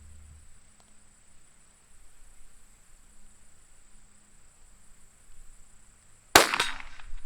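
A single sharp, loud report from a bolt-action rifle with a light trigger, fired near the end after quiet moments with faint insect-like hum in the background.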